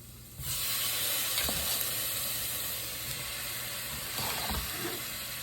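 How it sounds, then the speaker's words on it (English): Tomatoes drop into a hot pan of eggplant coconut curry, setting off a sudden soft hiss of steam that holds steady at low volume, with a couple of faint clatters near the end. "So now it's time to go ahead and add our tomatoes in here."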